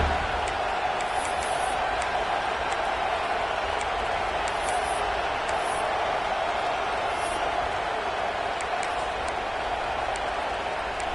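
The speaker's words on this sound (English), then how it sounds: "This crowd busting the decibel meter and trying to will a 4th down stop." Loud football stadium crowd at an LSU game roaring continuously before a fourth-down play late in the first half, a dense sustained wall of cheering and noise with scattered whistles and shouts.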